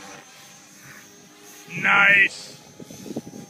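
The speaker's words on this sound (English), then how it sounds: "look at the helicopter." A Gaui X4ii radio-controlled helicopter flying at an outdoor RC event, giving a brief loud whine burst mid-clip over a background hum, with people talking nearby.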